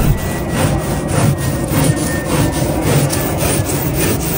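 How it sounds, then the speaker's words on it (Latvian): A hand saw cuts through wood in steady back-and-forth strokes, a close, rhythmic rasping that carries on unbroken with no talking. "viņš pareizi zāģē"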